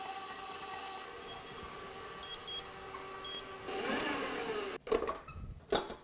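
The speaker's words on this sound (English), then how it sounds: "We start kneading somewhere in the middle and run it for 5 minutes." A stand mixer kneads dough at medium speed with a steady, even motor whir that runs throughout, followed by a few louder clunks and rattles near the end.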